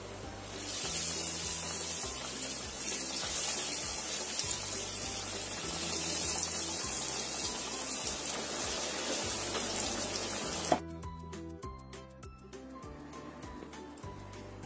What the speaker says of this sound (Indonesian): Goreng yang selanjutnya.